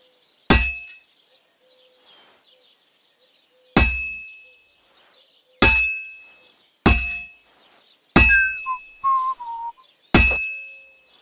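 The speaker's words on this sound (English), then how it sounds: "Now take the hammer and try hitting it a few times." A sword is hammered on an anvil in Kingdom Come Deliverance 2: six loud, ringing metallic clangs spaced a second or two apart, each decaying quickly into near silence with faint background tones between strikes.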